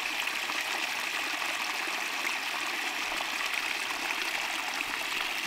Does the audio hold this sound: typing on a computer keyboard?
no